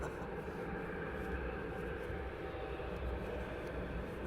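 An aircraft on approach at Luton Airport, a steady broad distant engine roar holding at an even level throughout, faint and without talk.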